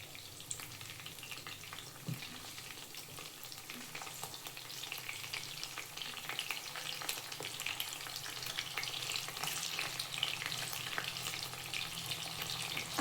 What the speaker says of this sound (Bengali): আবারও 10 মিনিট হালকা আঁচে ভালো করে ভেজে নেব